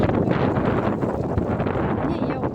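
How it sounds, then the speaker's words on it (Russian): Strong outdoor wind in a yard with poplars and hawthorn, buffeting the microphone in a steady, loud roar with gusty rustling and no clear break. "Вон какой ветер. Нормальный такой ветерок."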